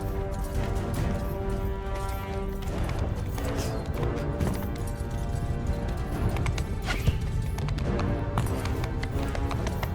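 Steady hoofbeats of a galloping horse clatter on without pause during a siege in Mount & Blade II: Bannerlord, mixed with a constant layer of game music and background noise.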